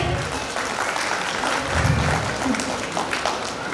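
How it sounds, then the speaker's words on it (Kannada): Sustained applause from an audience honouring teachers at a school alumni reunion and teacher-felicitation event, steady clapping throughout with a brief swell near the middle. "ಆ ಗುರುವೃಂದಕ್ಕೂ ಒಂದು ಚಪ್ಪಾಳೆ"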